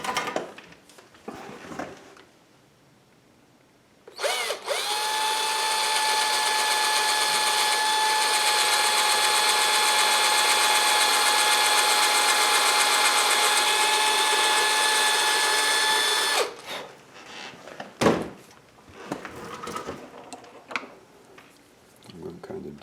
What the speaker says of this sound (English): So my drill.